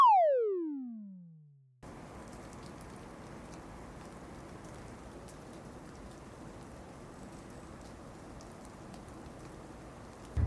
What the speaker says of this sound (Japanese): 大雨です。